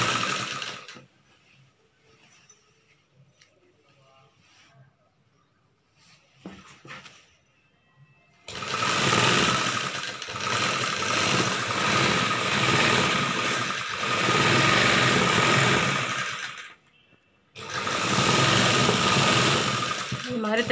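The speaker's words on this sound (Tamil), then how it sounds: "நம்ம இன்னொரு பக்கம் தைக்க ஆரம்பிப்போம்" A sewing machine stitches the side seam of a churidar top in two long, loud, continuous runs separated by a brief pause, after a quieter stretch at the start.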